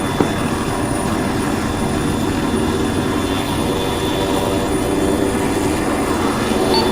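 A military helicopter in Arma 3 lifts off with a loud, steady engine and rotor roar that fills the whole stretch without letup, heard close from inside the aircraft.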